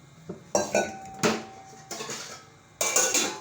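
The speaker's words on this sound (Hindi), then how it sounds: "अब हम अपने बर्तन धो लेंगे" Dishes, pots and utensils are washed by hand in a home kitchen. Several sharp clanks and clinks of metal and crockery land at irregular moments, fairly close, with softer scraping and rinsing in between and no talk.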